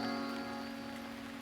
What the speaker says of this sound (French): Maintenant, j'aime aussi cette pluie.